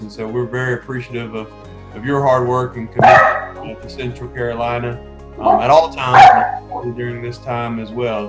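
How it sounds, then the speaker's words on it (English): A dog barks repeatedly in the background of an indoor home setting, several sharp barks scattered throughout, partly under steady talk from a person speaking. "So you can probably hear my dog barking in the background."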